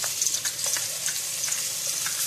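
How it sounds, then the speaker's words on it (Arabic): Garlic cloves frying in hot oil in a pan for a Swiss chard and potato dish, giving a steady close sizzle with small crackles and pops throughout, no voices. "انا حطيت شويه زيت تسخن ونحط عليهم شويه ثوم"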